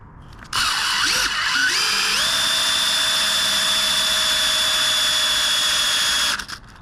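A power drill turning the engine oil pump of a 1972 Ford F100 360ci whirs up in steps to a steady high-pitched whine, runs continuously for several seconds, then stops.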